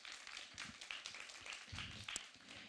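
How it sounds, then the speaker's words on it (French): A conference audience claps, with a fairly sparse and uneven patter of hands and some individual sharp claps standing out, heard faintly at a distance. "Bah oui, on peut applaudir"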